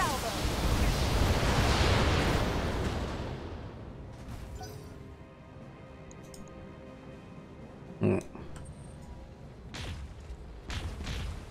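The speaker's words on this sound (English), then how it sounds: "That sounded like three PPCs." A full salvo of PPC weapons in the BattleTech mech game, a loud crackling blast that rolls and decays over a few seconds, followed by quieter mechanical sounds and a sharp pop.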